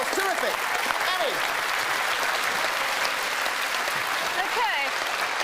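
Studio audience applause on a televised quiz results show, a thick, even wash of clapping sustained throughout, with a presenter's voice heard over it.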